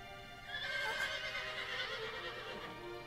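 A horse in the video game Shadow of the Colossus whinnies loudly for a couple of seconds, its neigh rising and trailing off over a faint background hiss.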